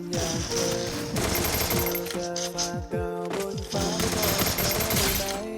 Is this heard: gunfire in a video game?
yes